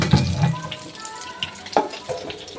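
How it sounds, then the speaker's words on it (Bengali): Potato pieces fry in hot oil for chilli potato, giving a close, steady crackling sizzle with a few sharp clinks and stirring bumps over a couple of seconds. "আলুগুলো ভাজা হয়ে গেছে, এবার আলুগুলো ভেজে নেবো।"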